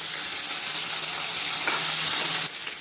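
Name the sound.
chopped tomato and chilies frying in a pan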